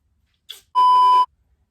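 Kitchen timer beeping during a lace wig installation: a brief soft chirp, then one steady, loud electronic tone lasting about half a second, alone in a quiet room.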